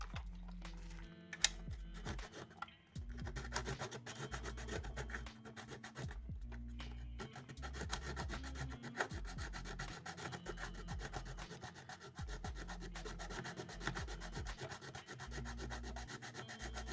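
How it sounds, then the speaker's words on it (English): Fine sandpaper rubs repeatedly over a surface to remove glue during a mini arcade cabinet repair, making a continuous scratchy scraping close by with steady back-and-forth strokes. "So I'm gonna have to try to use some fine sandpaper"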